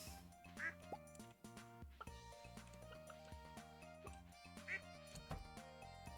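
Ducks quack in the farming game Stardew Valley Expanded, short game-sound calls sounding a few times over a dense, busy layer of game music.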